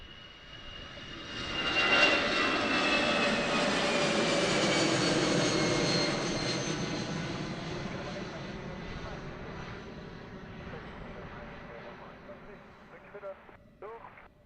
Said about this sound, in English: Again, very early takeoff.